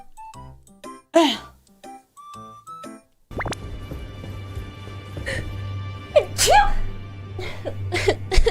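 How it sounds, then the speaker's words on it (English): A person sneezes several times in quick bursts, close and fairly loud, alongside spoken talk and some background noise. "I need to sneeze."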